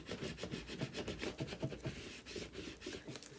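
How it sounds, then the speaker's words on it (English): A small squeegee rubs firmly across a decal and transfer tape on a DIY custom beauty rolling tray, giving steady scraping and rubbing strokes in a quick repeated rhythm, close and continuous with no talk. "Then I'm gonna take my little squeegee."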